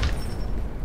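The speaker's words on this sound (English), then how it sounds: "That's grenade." A grenade goes off in the shooter Lost Light, a short, deep muffled boom with a low rumbling tail, heard on its own.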